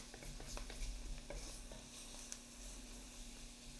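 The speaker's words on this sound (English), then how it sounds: "So we're getting all of that coated with the roux." Venison pieces being stirred in a pan of roux for Cajun piquant, a steady scraping stir with soft sizzling and frying crackle throughout, close and continuous with no talking.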